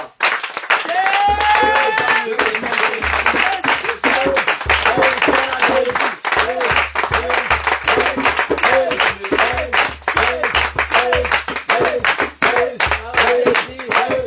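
A church congregation clapping in worship, loud rhythmic handclaps sustained throughout alongside music and voices.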